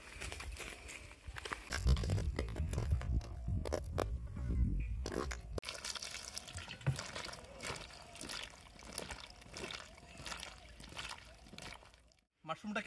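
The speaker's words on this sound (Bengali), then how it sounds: "মাশরুমগুলোকে এবার ধুয়ে নেবো আমরা।" Mushrooms are rinsed under running tap water in a village kitchen: a steady, fairly soft stream splashes and trickles continuously, with sloshing and handling noises mixed in.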